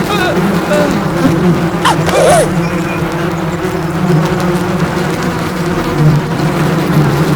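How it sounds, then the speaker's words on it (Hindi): A housefly buzzes close and continuously while people talk over it. "अरे मक्खी आ गई"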